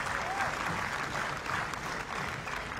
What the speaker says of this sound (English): A huge round of applause for James Ward